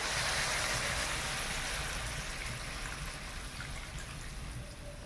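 Water that amchur (dried mango powder) was soaked in, pouring into a cooking pot: a continuous, close splashing stream that tapers off slightly near the end.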